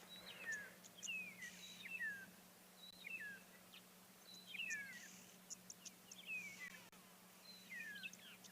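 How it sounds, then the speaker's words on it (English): Several birds, including starlings, call at sunrise in the African bush, with repeated short whistled and chirping notes scattered over quiet ambient background, fairly faint and moderately distant. "let's just have a listen to all the birds calling around us"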